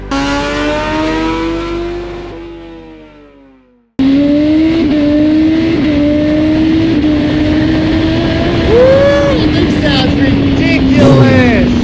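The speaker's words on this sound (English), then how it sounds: "today we have a brand new 2023 Kawasaki Z900 on the dyno" A 2023 Kawasaki Z900 fitted with a fake SC-Project full exhaust revs on a dyno, up close and loud. A first rev falls away to silence, then the engine holds a long steady drone with brief blips and a few sharp shifts.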